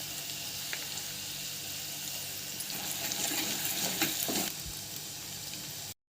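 Fish eggs frying in a pan with turmeric, ginger-garlic paste, garam masala and salt, a soft continuous sizzle with stirring scrapes and a few louder clatters near the middle before it cuts off.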